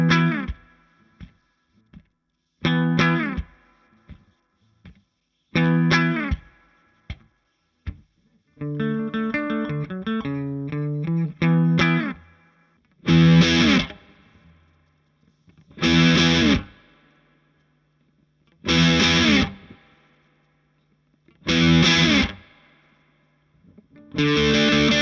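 Electric guitar played through a Great Eastern Focus Fuzz Deluxe pedal into a clean 100-watt amp: short fuzzy chord stabs, a quick run of notes, then five evenly spaced sustained distorted chords ringing out alone.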